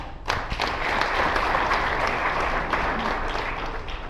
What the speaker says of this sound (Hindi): LIC के लिए जोरदार ताली।